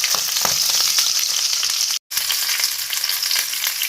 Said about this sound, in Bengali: এগুলোকে আমি উল্টিয়ে পাল্টিয়ে একটু পোড়া পোড়া করে নেব